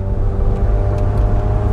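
A Ferrari 430 Scuderia 16M fitted with a new exhaust holds a loud, steady engine drone close by, sustaining a throaty rev without breaks and with no talking.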